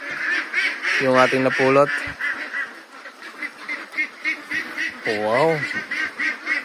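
Ducks on a duck farm quack and honk loudly nearby, a steady chorus of calls with louder honking bursts standing out, while a person speaks briefly over the flock.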